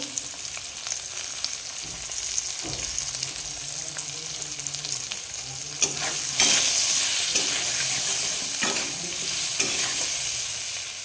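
Ground turmeric and cumin frying in a pan of hot oil, a continuous close sizzle and hiss with occasional stirring clicks and a brief louder spatter near the middle.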